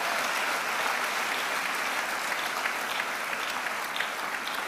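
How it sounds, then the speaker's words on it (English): A conference audience at a church morning session applauds steadily, a dense, even wash of clapping that holds at full strength throughout with no speech over it. "If you want to clap, go ahead and clap for the last time"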